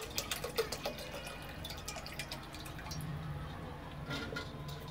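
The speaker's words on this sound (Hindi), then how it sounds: "पानी को अच्छे से डालेंगे।" Water runs steadily into a cooking pot being filled for boiling chow mein noodles, a continuous soft splashing hiss heard close but fairly quiet, with a few light clinks near the start.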